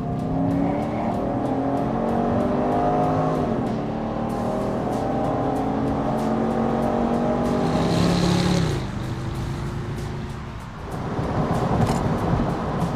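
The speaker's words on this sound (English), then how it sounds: "I hope the mics can pick this up because this engine" A Pontiac G8 GXP engine drones steadily while driving, a close, continuous rumble with shifting pitch that dips briefly after the midpoint and then swells again.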